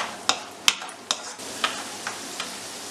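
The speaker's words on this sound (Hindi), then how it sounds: "अब हम काजू फ्राई कर लेते हैं" Cashews fry in hot ghee in a pan while a spoon stirs them. There is a soft sizzle, and sharp metallic clinks of the spoon against the pan come at a steady pace of about one every half second, clear and close, with no talking.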